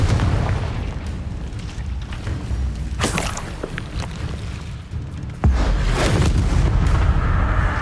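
A Confringo spell blast in the Hogwarts Legacy video game: heavy booming explosions over a dense, loud roar of battle, with a sharp crack midway and another strong burst toward the end.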